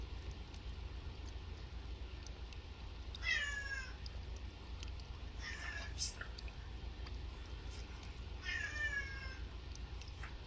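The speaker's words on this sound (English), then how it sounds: "I got interrupted by a cat." A cat meows in a Persona 4 game episode, three separate meows spread across a quiet stretch over a low steady hum, fairly faint and unhurried.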